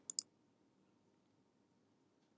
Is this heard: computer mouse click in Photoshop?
yes